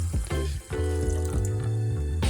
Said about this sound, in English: we pour the rice in a pot and we add the vegetable stock